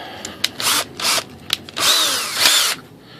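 A small power drill bores a hole through a fiberglass part of an RC model glider (ASW-28) in several short, close whirring bursts of rising pitch, separated by brief pauses and ending with two longer runs.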